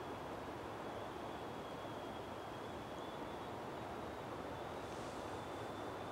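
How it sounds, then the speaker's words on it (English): A distant train passes at night as a steady, faint, continuous rumbling roar that stays even throughout with no clear rhythm and no talk. "It's a train, but it's way up."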